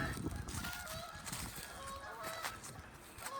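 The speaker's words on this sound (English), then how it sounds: "having to listen to these lousy geese argue" Geese honking back and forth at a distance, overlapping squawky calls over outdoor background noise.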